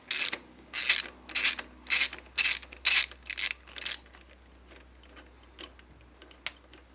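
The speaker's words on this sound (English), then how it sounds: "We've got to undo these nuts sitting on top. They retain the return line system." A ratchet clicks in quick bursts while undoing nuts on the injector return line of a Toyota 1KZ diesel engine, about eight loud rhythmic strokes followed by quieter scattered ticks and fiddling.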